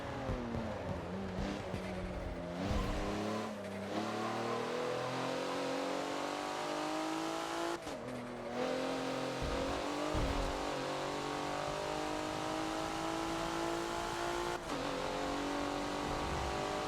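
Race car engine lapping Yas Marina's North Corkscrew track in Forza, revving loud and steady with rising and falling gear pitches, brief throttle lifts and shifts, and faint tire squeal, with no talking.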